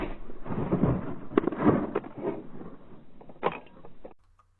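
A heavy rifle loaded with a 480 grain bullet fires at a shooting competition, a loud booming blast with rumbling echoes, then a second sharp report before the sound cuts off.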